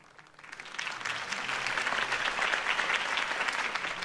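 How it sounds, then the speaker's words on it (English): In the video game Batman: The Telltale Series, a crowd breaks into sustained applause, many hands clapping loudly, the sound swelling in the first half second and then holding steady. "could have heard that applause"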